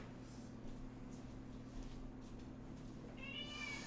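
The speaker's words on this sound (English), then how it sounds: "Go away, cat. I just fed you." A domestic cat meows a few times indoors, faint and close, over a steady low hum of room noise, with a brief higher cry near the end.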